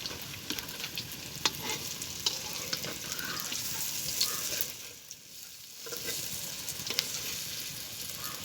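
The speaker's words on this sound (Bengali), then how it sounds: "মশমশা করে ভেজে পাকোড়া তৈরি করতে হবে" Pakoras made with leftover cauliflower leaves fry in hot oil, giving a steady close sizzle and crackle throughout, with occasional spatters and a brief dip in the middle.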